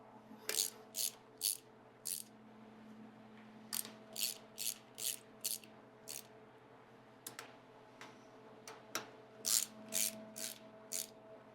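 Ratchet snugging down intake manifold bolts on a small-block Ford engine, quick bursts of crisp clicking repeated in short runs with pauses between, fairly quiet over a steady low hum.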